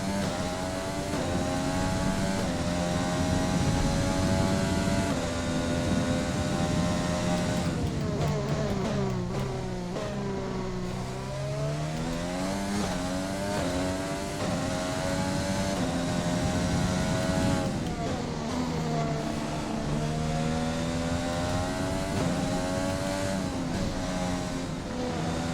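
Formula 1 car engine in the F1 2020 racing game at the Austrian track, a loud, high-pitched whine rising and falling through gear changes and revs for the whole stretch, with no talk over it.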